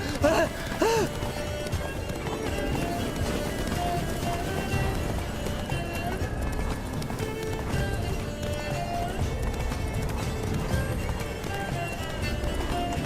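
Geralt's horse Roach gallops in The Witcher 3: Blood and Wine, a steady, continuous drum of hoofbeats mixed with game ambience and a short whinny-like cry at the start.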